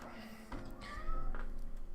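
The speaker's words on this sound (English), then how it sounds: "Can you hear him? He's meowing out there." A cat meows from outside, a single drawn-out cry heard indoors at moderate distance over a low background hum.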